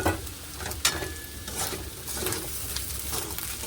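Roasted semolina tipped into a pan of frying egg and potato, then stirred, with a steady sizzle and scraping spatula strokes close by.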